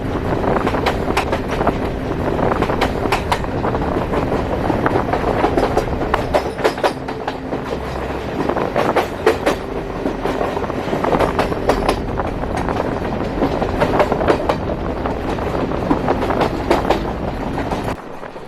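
A passenger train runs along an Indian rail route near Kalyan Junction, giving a steady, loud rolling rumble with repeated clickety-clack from the wheels on the rail joints. No one speaks.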